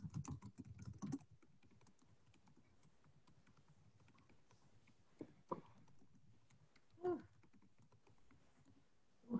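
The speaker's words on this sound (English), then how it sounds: "That was actually pretty good typing for being like on the spot in front of people" Someone types on a computer keyboard in sparse, quiet bursts of keystrokes, with a few louder clicks standing out against a soft room background.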